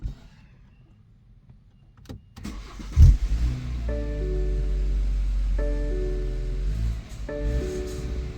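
A BMW engine cranks briefly and catches after a quiet stretch with a couple of clicks, then settles into a loud, steady idle with a tonal hum that dips and returns at intervals.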